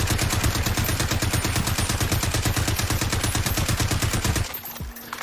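A long, rapid burst of automatic gunfire in Call of Duty Warzone, loud and evenly paced shots hammering continuously for several seconds before stopping abruptly, followed by near silence.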